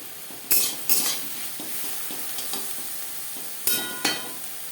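Shrimp heads frying in a pan for chingri macher mathar vorta, a quiet sizzle broken by a few sharp metal utensil clanks near the start and end.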